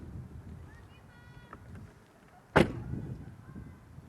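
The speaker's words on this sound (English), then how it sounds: "I just love that thunk sound." Door of an Audi B7 A4 Avant closing with a single solid, sharp thunk, near and fairly loud above quiet outdoor background noise.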